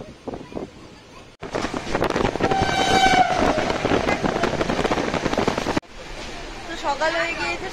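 A passenger train running on the Kharagpur to Vizag route, loud close clatter and rumble of the wagons with a long horn blast, wind buffeting and some voices in between.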